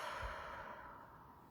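A soft, breathy exhale during a calming breathing exercise, one long airy release that fades gradually, heard alone and quite faint.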